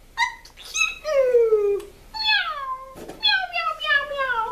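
A series of kitten-like meows, several rising-and-falling mewing calls in close succession, separated by short pauses. The calls are fairly clear and near; it is likely a person imitating a kitten during a storytime.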